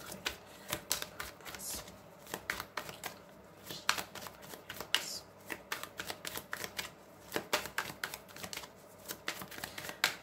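Tarot cards are shuffled by hand in a quick run of crisp riffling bursts and soft slaps, close and irregular, with no talking.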